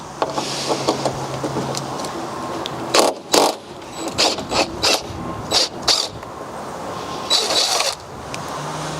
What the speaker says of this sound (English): Now I have the 1/2 inch universal joint onto an impact wrench. I'm going to install my socket.